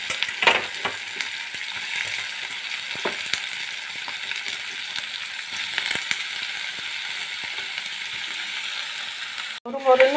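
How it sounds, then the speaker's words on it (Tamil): Onion and capsicum (bell pepper) sizzle steadily in hot oil, a continuous crackling fry with a few louder pops and a clatter near the end. "எண்ணெய் காய்ஞ்ச உடனே வெங்காயம் பெருசாக நறுக்கி வச்சுருக்கோம்ல அந்த வெங்காயம் கொடமிளகா ரெண்டையுமே போட்டுடலாம்"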